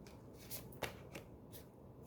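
Tarot cards are riffled and slid as they are drawn from the middle of a deck, soft papery flicks and a few sharper snaps in quick succession, faint and close with no talking.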